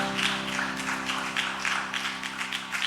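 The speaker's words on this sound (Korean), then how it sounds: "우리의 주인 되신 하나님께 영광의 박수 올려드리겠습니다" A congregation applauding during a Sunday church worship service: a steady, dense patter of clapping holds throughout, with sustained organ-like music tones underneath.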